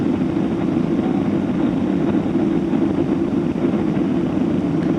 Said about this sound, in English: by this stage it looks like they'll definitely continue the landing.